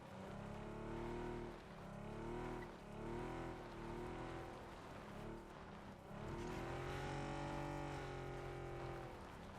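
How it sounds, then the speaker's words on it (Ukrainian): Car engine droning and revving in PUBG, a battle royale shooter, with rising and falling pitch sweeps as the vehicle accelerates and shifts, loud and steady throughout without talk. "Тачка їде, та я ні? Ззаді чув."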